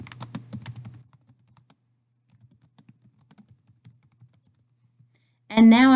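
A few seconds of keystrokes on a computer keyboard as a page title is entered, the rapid clicks clustered at the start and then thinning to sparse, faint taps before a short burst of talk at the end.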